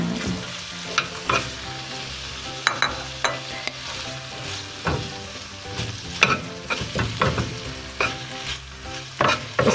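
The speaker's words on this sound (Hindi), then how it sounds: "अब इसको अच्छी तरह मिक्स करेंगे" Boiled macaroni stirred through cooked chicken in a hot pan, with a steady sizzle and repeated scraping clinks of the spoon against the pan, close and clear, no talking.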